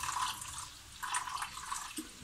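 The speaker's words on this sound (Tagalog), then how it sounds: "dadagdagan natin ng tubig" Water runs and splashes into a cooking pot for curry, a soft continuous pour with small irregular spatters, fairly quiet throughout.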